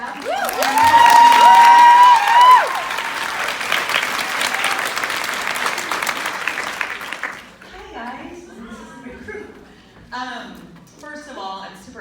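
An audience bursts into loud, warm applause with some cheering to welcome a speaker at an event, the clapping fading into scattered claps and murmuring crowd noise.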